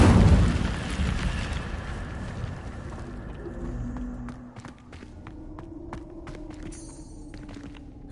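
Incendio fire spell in Hogwarts Legacy: an opening burst of fiery whoosh and rumble that fades over a few seconds, followed by scattered short clicks and light footstep-like taps.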